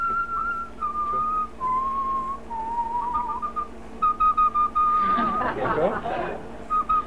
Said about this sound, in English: Regardez, maintenant siffle. Whistle now.